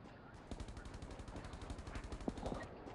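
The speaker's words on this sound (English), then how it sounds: "The gunshot? Fire shot? You shooting?" Rapid gunfire in the Rules of Survival video game rattles in a steady automatic burst for a few seconds, fairly faint and distant, with voices faintly underneath.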